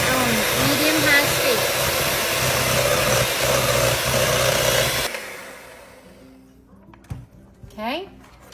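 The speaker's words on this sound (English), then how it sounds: "Now we're going to get our mixer and blend these on medium-high" An electric mixer blends buttermilk and other batter ingredients for a double chocolate cake on medium-high speed, a loud, steady whir lasting about five seconds before it cuts off, leaving quieter handling sounds and a brief voice.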